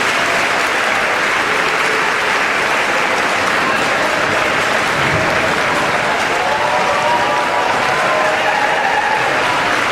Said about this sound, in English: I'd ask for one more round of applause for Ms. Angela Brown